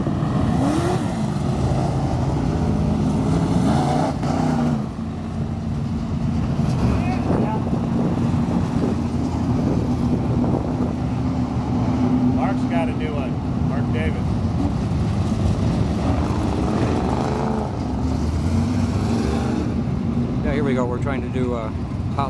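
An IMCA Modified race car runs hot laps at Ventura Raceway, a loud, continuous engine drone that swells and rises in pitch as it revs and accelerates, close and dominant throughout with no pauses.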